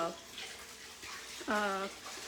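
A tap runs steadily into a pan stuck with jaggery to soak it in hot water, a soft continuous rush of water with a brief voice over it.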